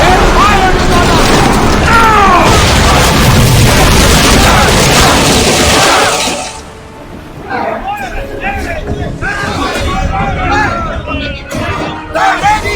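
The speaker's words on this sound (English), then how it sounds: "They're firing on us!" Enemy ship fire in Assassin's Creed Odyssey: a loud, dense wash of booming cannon blasts and creaking naval mechanisms with crowd shouting, dropping after a few seconds to quieter rumbling and scattered bursts.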